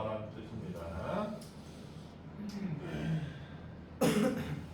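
A person makes repeated dry throat clearings and short coughs during a classroom lesson, with several rough bursts spaced across the moment, the last one louder and closer, amid faint room noise.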